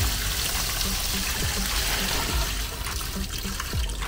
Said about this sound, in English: anytime I have extra water change, water that I need to dump somewhere, I just dump it in my plants back here